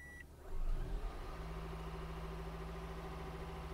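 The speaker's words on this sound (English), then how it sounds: "I reconnected the battery and let's start the vehicle." A vehicle engine cranks and catches with a loud surge, then settles into a steady, even idle right after its battery was reconnected following removal of a stuck 100 amp fuse.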